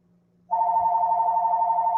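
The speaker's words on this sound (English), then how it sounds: "I'm hearing the phone ringing in the background" A telephone starts ringing abruptly after a quiet moment in a restaurant and bar, a sustained electronic bell tone that holds steady and fairly loud without voices over it.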